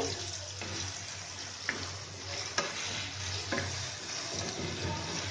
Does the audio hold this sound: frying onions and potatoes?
yes